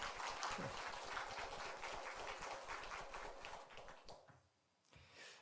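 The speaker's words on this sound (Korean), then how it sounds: "우리 한번 우리 큰 박수로 환영하겠습니다." A church congregation at an Easter Sunday worship service applauds loudly to welcome a pastor, a dense, steady wash of many hands clapping that fades away near the end.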